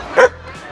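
A small dog gives a single sharp, close yip-like bark in a room with a pet green cheek conure nearby, with faint background voices.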